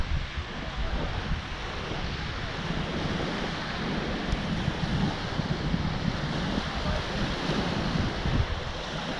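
Waves surge and wash steadily onto an Adriatic Sea beach in Albania, a continuous close roar of surf mixed with wind buffeting the microphone, with no talk.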